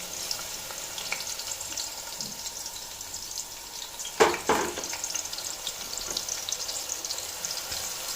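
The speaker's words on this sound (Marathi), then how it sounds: "आणि हा जो कांदा आहे हा कमी गॅसवरती तळायचा आहे आपल्याला" Onion frying in hot oil over a low flame crackles steadily at moderate volume, with a sharper burst of sizzle around the middle and light stirring clinks.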